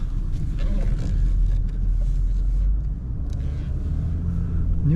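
A 1997 Toyota Mark II Grande with a naturally aspirated 1JZ engine and automatic transmission drives along, giving a steady close low rumble of engine and road noise with no talking.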